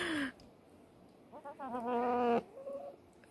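Light Brahma hen gives a squawk, then a long goose-like honk with a strained, harmonic tone, followed by a shorter softer honk; close and clear in an otherwise quiet space.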